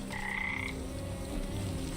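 Frogs croak in a swamp in the video game Wytchwood, a clear tonal croak rising above a steady ambient background with no talk.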